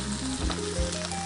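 Garlic hitting very hot, smoking olive oil in a pan for Spanish tapas, a loud continuous close sizzle with a couple of stirring bumps.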